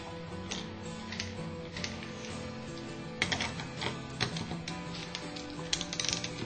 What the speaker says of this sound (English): you need to go in and follow up with a wrench